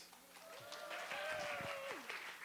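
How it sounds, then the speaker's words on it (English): Applause from a staff audience at a storytelling slam, a steady wash of clapping filling the room for a couple of seconds while a voice rises and falls over it. "another round of applause"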